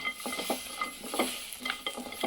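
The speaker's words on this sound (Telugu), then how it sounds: "ఫస్ట్ మిర్చిని ఇట్లా ఫ్రై చేసేసుకోవాలి." Green chillies fry in a pan, a close, steady sizzle with quick stirring scrapes and tapping bursts against the metal.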